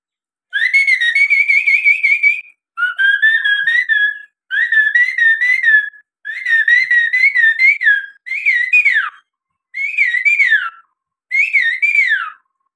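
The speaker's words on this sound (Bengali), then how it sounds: "কোকিলের আওয়াজের পর বসন্ত বৌরি পাখি সুন্দর করে ডাকছে ভোরে।" A barbet (basanta bauri) calls at dawn in seven loud, clear whistled phrases, each lasting one to two seconds with short pauses between, close by against silence.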